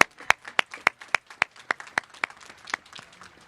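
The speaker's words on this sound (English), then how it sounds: "Give yourself a round of applause." Sparse clapping at a high school graduation ceremony, a handful of sharp, evenly spaced claps from a small group, fairly close and fading slightly toward the end.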